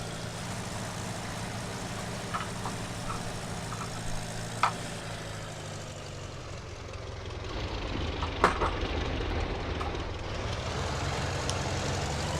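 A tractor engine runs at a steady, low drone, with occasional faint knocks and clatters rising over the constant mechanical hum.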